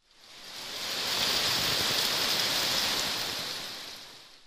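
Heavy rain shower pouring down in the Yeşilyurt neighborhood of Erzurum, Turkey, a dense, steady hiss that swells in and fades out with no voices over it.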